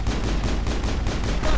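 Rapid gunfire from a pistol in the Mass Effect video game, dense and continuous bursts at close range, loud and steady throughout with no talking.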